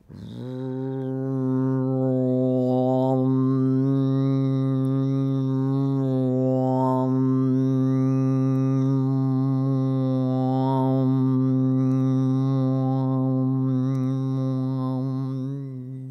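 A single voice sustains a low, steady droning chant of the syllable Ram during pranayama, humming on one pitch for a long continuous breath.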